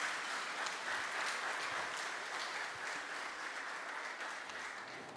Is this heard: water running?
no